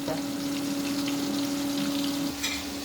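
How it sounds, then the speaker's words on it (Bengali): Basa fish fillet pieces fry in a pan, producing a soft, even sizzle with a faint steady hum and a brief stirring sound near the end, with no talking. "এভাবে অন্য পিসগুলো ভেজে নিচ্ছি"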